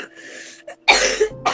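A single person's cough, close and fairly loud, after a faint breathy throat sound, with a second shorter cough burst at the end.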